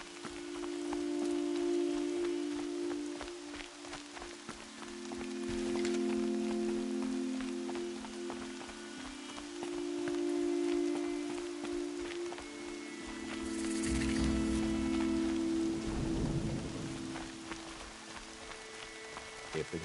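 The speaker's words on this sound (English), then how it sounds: "Rain's not so bad." Steady rainfall in the video game Horizon Zero Dawn, a continuous soft hiss of drops falling on surfaces, with low ambient swells underneath and a brief rustle or shift in the middle.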